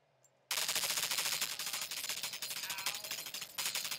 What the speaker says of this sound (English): It's a minigun.